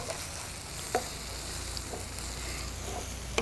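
Biryani masala with turmeric powder sizzling in a pan over a low flame while being stirred, a soft steady frying hiss with a couple of sharp spoon scrapes against the pot.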